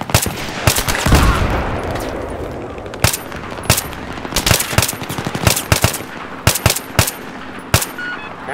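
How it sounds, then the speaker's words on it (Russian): Suppressive machine gun fire in the video game Battlefield 3, sharp loud bursts and single cracks in an uneven rhythm over a rumbling battle background. "Дима, поддай давящего огня на этот РПГ!"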